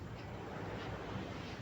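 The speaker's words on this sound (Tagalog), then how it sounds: "Ang lakas pa ng hangin." Steady, loud wind roars and buffets the microphone without a break, a dense rushing noise with a low rumble underneath.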